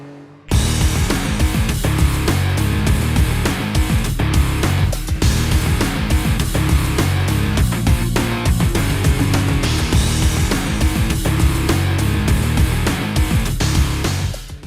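A Can-Am Maverick X3 turbocharged side-by-side with a 900cc three-cylinder engine drives hard, its loud, continuous engine roar and mechanical rattle starting abruptly and holding steady close by for the whole stretch.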